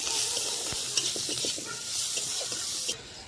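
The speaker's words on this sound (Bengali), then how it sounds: "নাড়াচাড়া করি" Vegetables seasoned with salt and turmeric sizzle in a wok as they are stirred, with a steady frying hiss and light scraping clicks from the stirring.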